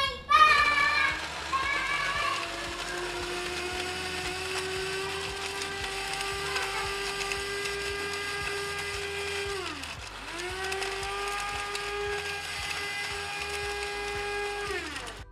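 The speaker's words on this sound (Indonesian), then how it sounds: "setelah itu kita akan blender kacangnya" A blender grinds fried, lightly oiled peanuts in a kitchen, its motor whining at a steady pitch that dips briefly midway and then picks back up, loud and continuous with no talking.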